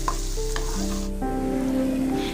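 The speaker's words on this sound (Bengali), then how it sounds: "আর দিয়ে দিচ্ছি পেঁয়াজ কুচি। পেঁয়াজ কুচিটা এবার খুব ভালোভাবে ভাজা করে নেব" Chopped onions frying in mustard oil in a pan for a fish roe curry, stirred with steady bright sizzling and scraping strokes close by, continuous throughout with no talking.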